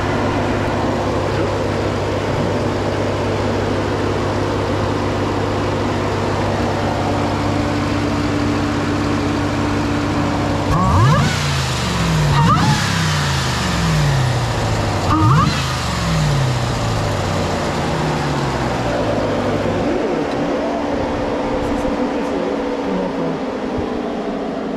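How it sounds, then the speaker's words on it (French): A Dodge RAM TRX pickup accelerates, its supercharger rising in a whine over a steady engine drone, with two climbing sweeps in the middle before the engine settles back to a low idle; people talk inside the cab. "On a bien entendu le compresseur."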